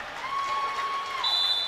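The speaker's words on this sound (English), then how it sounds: "Both sets of fans applauding the efforts there." Fans at a varsity high school volleyball match between Cedar Falls and Iowa City Liberty applaud after a long rally, a steady wash of clapping through the gym with a sustained whistle-like tone over it.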